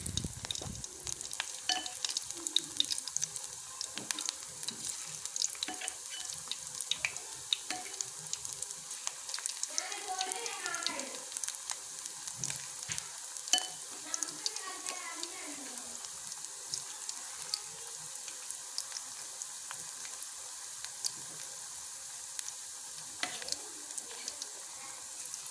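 Cauliflower bhaji pieces deep-fry a second time in coconut oil with a soft, continuous bubbling crackle. Light stirring clicks sound throughout, with a faint warbling sound in the background partway through.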